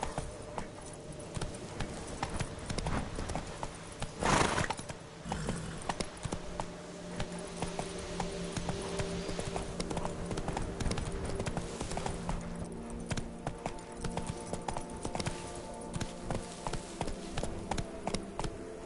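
A horse gallops through The Witcher 3: Wild Hunt in rapid, rhythmic hoofbeats that stay close and steady, with one brief louder burst early on and no clear speech.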